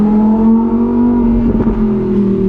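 A Lamborghini Huracan EVO Spyder V10 engine revs with a deep, throaty exhaust rising in pitch as the exhaust valves open around 4,000 RPM, loud and close, running continuously without talk.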